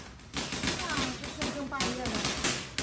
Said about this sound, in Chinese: 他这个烟花放不停了